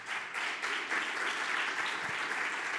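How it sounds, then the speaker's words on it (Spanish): A church congregation breaks into a brief, fairly faint round of applause during a sermon, with steady, even clapping throughout. "¿Por qué no le dan aplauso al Señor?"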